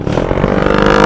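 A big motorcycle fitted with a silencer goes by close and loud, a rumbling, steady engine note that still comes through noisy and rises slightly as it passes.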